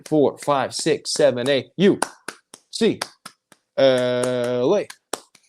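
Sharp hand claps or snaps land in time with a man's spoken count on a UCLA basketball podcast, the quick crisp hits interleaved with his voice.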